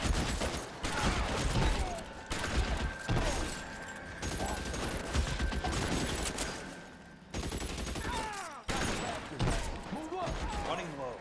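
Video game gunfire from L.A. Noire, including a shotgun, comes in rapid bursts and volleys that cut in and out. Voices talk over the shooting throughout.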